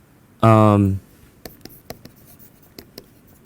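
Chalk or marker strokes tap and scratch on a board during a physics lecture on parity violation, a quick series of short, crisp strokes heard after a brief spoken sound.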